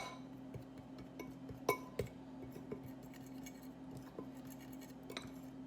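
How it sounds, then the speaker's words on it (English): A fork mixes food in a dish, giving faint scattered clinks and taps against the bowl, a few sharper hits standing out over a quiet kitchen hum. "we're gonna take another fork and we're gonna mix that up."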